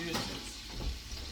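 Steak searing in butter in a hot pan, a loud continuous sizzle with some stirring and scraping, mixed with a voice talking over it.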